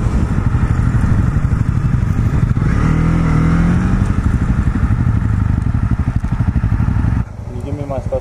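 A small motorcycle engine runs steadily while riding, a close, loud putter with brief revving rises, wind rumble underneath, then a sudden drop in level near the end.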